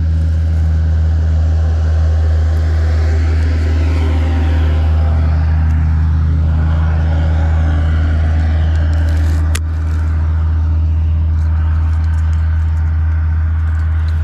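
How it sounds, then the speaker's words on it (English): A truck or tractor rumbles past on a road beside a bass-fishing spot, a loud heavy low engine drone that stays strong and close throughout, with a brief rattling clank partway through. "I'll wait for this truck to go by"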